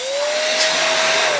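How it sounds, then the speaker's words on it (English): Electric balloon pump motor running steadily with a loud, even whirring hum like a hairdryer, close and continuous, with no talk. "As an actual pump motor goes, it's going to be just as loud as, let's say, a hairdryer"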